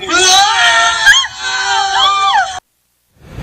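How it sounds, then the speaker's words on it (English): A woman screams loudly and shrilly in a mattress store TV advertisement, her wavering cries repeated over a couple of seconds before cutting to silence, with some faint background noise returning at the end. "The online ad for Miracle Mattresses features a woman screaming as 2 towers of mattresses topple."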